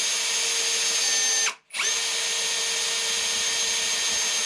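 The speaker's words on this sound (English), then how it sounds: "drill out the tension pin to lose the lever" Power drill boring out a tension pin on a VW T3 shifter lever, a steady high whine running alone, briefly cutting out mid-way before resuming at the same pitch.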